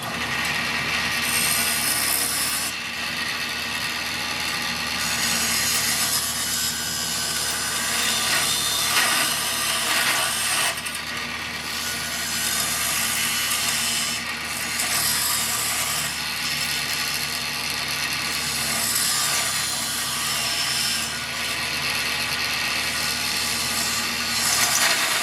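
A wooden baseball bat knob is cut to depth, giving a continuous rasping, grinding mechanical noise that holds steady for about 25 seconds with slight surges and no voices.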